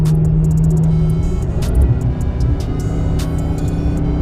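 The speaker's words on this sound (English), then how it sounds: "Nothing too crazy, just a slight rip on the throttle." A Dodge Hellcat on Nitto 555RII tires makes a loud, sustained engine roar through a brief throttle pull, the exhaust drone steady and close with a rising note partway through.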